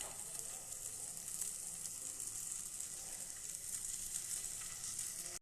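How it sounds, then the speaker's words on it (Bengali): Paneer and onions fry in butter on a tawa, giving a steady, soft hiss of sizzling with faint crackles, heard close and alone without pause. "এই পনিরগুলো সব তাওয়ার মধ্যে আমি দিয়ে দিয়েছি। এবার এটাকে ফ্রাই করব, একদম তন্দুরি টাইপস ফ্রাই।"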